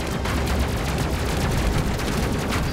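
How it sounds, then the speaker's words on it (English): Missiles launch in a dense, continuous roar of overlapping blasts in the space game Space Crew, loud and unbroken for a few seconds with no talking. "Look at all those missiles go"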